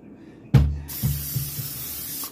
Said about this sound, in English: I am just going to spray it with just a little Pam